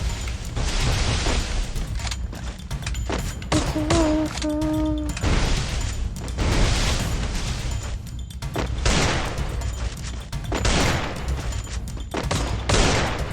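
Pistol fire from the Free Fire mobile game, with a skinned Desert Eagle and G18, cracks in rapid repeated bursts throughout, loud and close, with a few short electronic tones in the middle.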